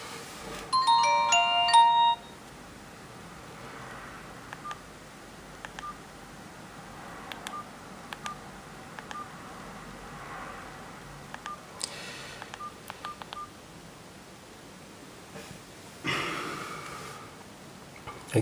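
A Nokia 222 mobile phone powering on, a short bright electronic startup chime in the first two seconds followed by quieter handling clicks and faint taps on the handset.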